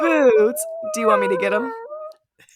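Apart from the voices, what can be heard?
dog whining and howling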